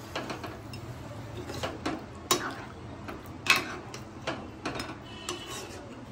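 A utensil stirs mutton korma in a pot with a series of light, irregular clinks and scrapes against the metal, close and fairly quiet over a soft background.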